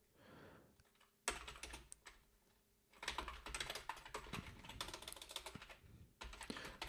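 Rapid typing on a computer keyboard while writing code, dense bursts of clicky keystrokes with a short pause between flurries, close and fairly loud, no talking.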